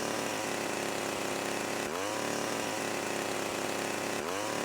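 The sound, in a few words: defective broken chainsaw sound in GTA Definitive Trilogy video game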